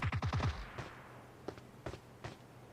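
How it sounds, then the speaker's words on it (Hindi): Gunfire in the mobile battle-royale game PUBG Mobile: a rapid burst of about five sharp shots, then three widely spaced single shots, moderately loud with no talk. "फायरिंग हुई है, मेरे ही टीम मेंबर ने फायरिंग की है"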